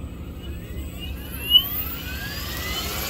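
Goblin RC helicopter motor spinning up outdoors, a rising electric whine climbing steadily in pitch over a low rumble of background noise.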